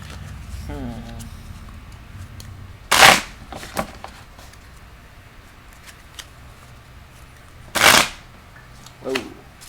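Two brief bursts of tarot card shuffling, a few seconds apart, with quieter riffles in between and a faint voice at the start.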